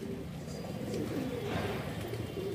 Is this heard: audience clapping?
no